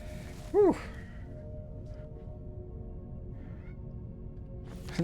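A single drawn-out, grumbling meow from a cat with a low complaining tone, fairly close and brief, followed by a quiet room with a faint background hum.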